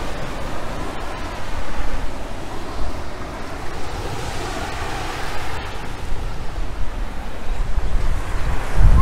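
Ocean surf rolls steadily onto Gesing Beach in Gunung Kidul, Yogyakarta, a loud continuous wash of breaking waves mixed with gusty wind buffeting the microphone, with no voices.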